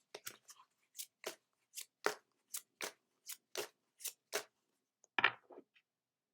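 An oracle card deck is shuffled in about a dozen crisp, evenly spaced riffling snaps, close and quiet against silence, ending in a slightly longer burst.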